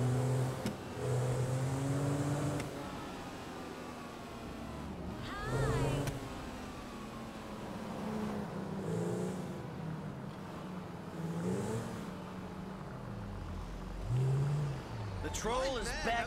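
A car tears along recklessly in the video game GTA 5, its engine droning and surging over roughly sixteen seconds beneath near-constant conversation.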